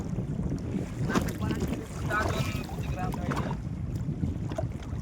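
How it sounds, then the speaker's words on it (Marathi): Strong wind buffets the microphone in a steady, loud roar with gusts, a faint voice briefly audible beneath it, during outdoor fishing. "हे बघा कसं खतरनाक वारा सुटलेला आहे"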